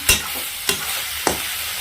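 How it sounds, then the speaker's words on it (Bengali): Pea shoot greens frying in oil, a continuous close sizzle punctuated by three evenly spaced spatula scrapes as the greens are tossed. "এই যে শাক ভাজা হচ্ছে"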